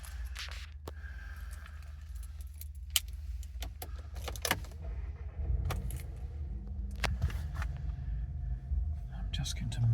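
Car keys jingle and clink near at hand inside an Audi Q3, in short bursts against a low engine hum, with a few quiet movement scrapes and some speech.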